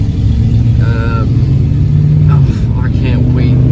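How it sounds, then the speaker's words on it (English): A loud truck engine rumbles past nearby, a heavy low drone that holds steady, while someone talks over it. "Loud ass truck."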